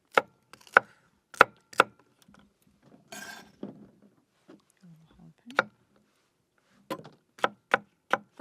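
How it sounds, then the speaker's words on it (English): Knife chopping vegetables and garlic on a board for a hot sauce ferment, a series of sharp, close, fairly loud chops in short bursts with pauses, plus a brief scraping sweep. "it does not matter what size we chop the vegetables because we are going to be blending this down the road"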